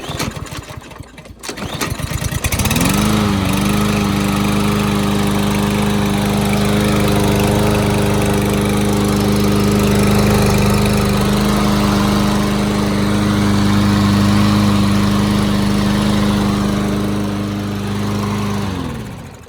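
A Troy-Bilt TB110 lawn mower with a plastic carburetor is pull-started after a no-start fix, catching within a few seconds and then running steadily and loudly close by.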